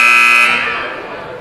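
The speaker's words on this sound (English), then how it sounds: "the last buzzer sounds" A loud electronic basketball game buzzer blares with a steady harsh tone at a high school varsity boys game, then fades over about a second as crowd noise lingers underneath.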